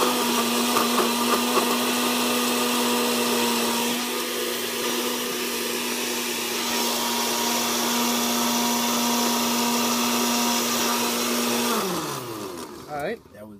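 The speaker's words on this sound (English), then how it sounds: "let's unplug the blender" A blender whirs loudly and steadily as it churns a Twinkie slushy, holding a constant high whine for about twelve seconds before the motor winds down and stops.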